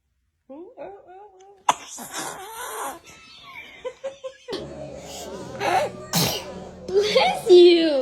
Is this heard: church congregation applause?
no